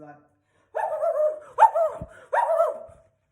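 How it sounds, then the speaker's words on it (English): A dog barks three times in quick succession, each bark loud and close with a slightly whining, voice-like tone, separated by short pauses. "something like that you hear a dog that comes"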